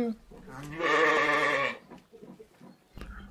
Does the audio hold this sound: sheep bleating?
yes